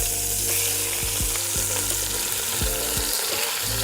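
Beef pot roast browns in a hot pan, giving a steady loud sizzle and hiss with a few low thumps as the meat is shifted, close and continuous throughout.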